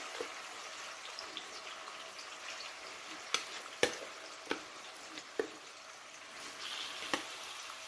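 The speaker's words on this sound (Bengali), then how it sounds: "সেটাকে দিয়ে 5 থেকে 7 মিনিট চিকেনটাকে ভেজে নিতে হবে।" Marinated chicken fries quietly in oil with a soft, constant hiss broken by a few sharp pops and crackles.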